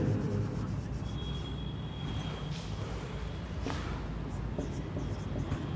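Writing on a board during a biology lecture, a steady scratchy stroking that runs continuously over a constant background hum in the room.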